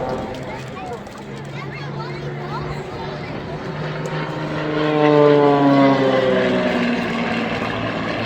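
A flat-six propeller airplane engine drones steadily at an air show, its pitch rising and swelling louder midway as the plane maneuvers, with a voice talking over it.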